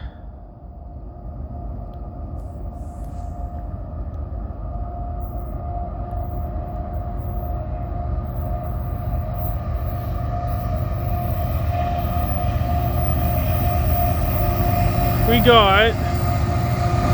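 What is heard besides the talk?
eastbound CN freight train passing at night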